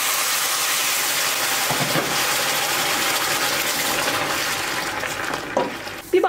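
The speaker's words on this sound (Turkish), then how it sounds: "Suyunu ekliyorum." Water poured into a pot of sautéed rice for Turkish rice pilaf, a steady rushing, sizzling wash that runs for several seconds before tapering into a few small clinks and splashes at the end.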